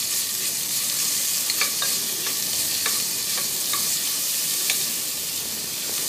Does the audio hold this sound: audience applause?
no